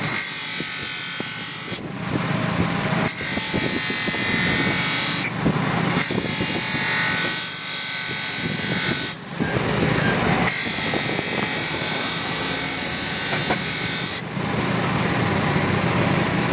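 A knife is sharpened on a grinding and sanding machine, giving a loud, high-pitched continuous whine broken into several long passes by short pauses, close up and with no speech over it.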